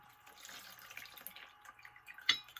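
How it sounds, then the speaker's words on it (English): A glazed ceramic piece is dipped into a container of clean water, giving a faint sloshing trickle and then one brief, sharper splash near the end, quiet and close with no speech. "dip it in the clean water"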